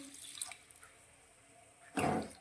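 A short, quiet splash of water, about one and a half bowls, being poured into a cooking green tomato curry near the end, after a few seconds of low background hiss.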